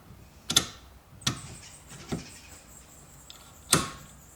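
A car drive shaft slides over a clean, dry mating surface, giving several sharp metallic clicks and knocks spaced over a few seconds, close and fairly quiet, with no talking.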